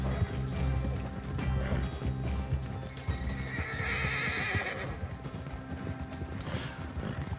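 A horse in Red Dead Redemption 2 Online neighs and whinnies over steady clip-clopping hooves, with game background sounds; no speech.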